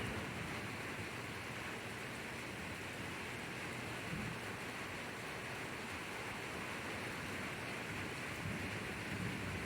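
Steady broadband rain hiss from an evening thunderstorm with lightning, with a couple of faint low rumbles of distant thunder rolling under the downpour; no talking.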